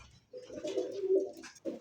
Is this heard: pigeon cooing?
yes